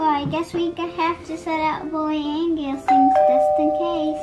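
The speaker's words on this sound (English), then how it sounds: "That's the doorbell." A ding-dong doorbell chimes clearly partway through, ringing two bright tones that sustain over a child's chatter in a home setting, with speaking before and during the chime.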